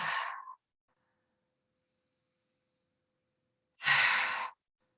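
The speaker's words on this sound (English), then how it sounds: "Exhale from the throat." Two audible breathy exhales from the throat during a yoga practice, one at the very start and another a few seconds later, separated by silence, each close and clear.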